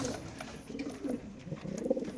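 A racer pigeon coos softly among other birds, low murmuring calls repeating under a busy, noisy background at a pigeon market.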